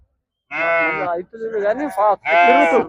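Sheep bleating at a sheep and goat livestock market, three loud close bleats in a row with brief pauses between them.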